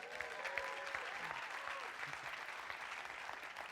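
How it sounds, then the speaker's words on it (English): Audience applause at a leadership talk, a steady wash of clapping at moderate distance with a voice speaking over it. "And while we're clapping"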